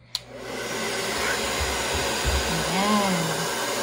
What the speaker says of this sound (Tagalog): ito yung tunog ng hair blower natin ngayon